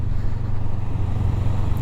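A Honda Rebel 500 motorcycle with its stock exhaust runs close by, giving a steady low, throbbing engine drone with a regular pulsing beat and no voices over it.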